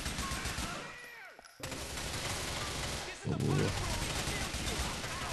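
Gunfire in the video game GTA 4, a burst of loud shots overlapping in-game audio, with a short gap of quiet before dense firing resumes; a voice briefly exclaims.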